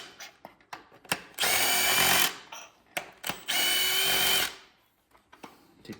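A power tool, likely an impact gun, loosens bolts on a BMW S58 engine being built for racing, with two sustained whirring bursts of about a second each among clanks and short tool taps.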